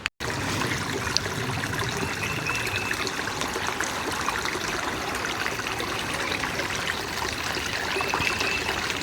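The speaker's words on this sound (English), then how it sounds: "This is almost too cool of a creek to cross." A creek flows steadily along a rocky, rooty trail loop in St. Francois State Park, Missouri, its continuous close trickling and babbling filling the whole stretch without speech.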